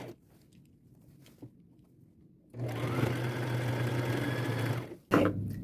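A sewing machine runs a straight stitch along a quarter-inch seam joining shirt fabric, a steady close whirring hum lasting a couple of seconds after quiet handling, then stopping briefly and restarting.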